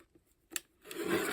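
Scissors cutting paper while trimming a journal page: a single crisp snip midway, then a longer soft rasping cut close by, fairly quiet with no talking.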